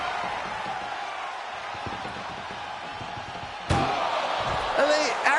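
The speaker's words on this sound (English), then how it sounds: "Trying to at least slam one door shut." An ambulance door slams shut with one loud hit during a WWE video game ambulance match involving Brock Lesnar, John Cena and Roman Reigns, over crowd noise and commentary.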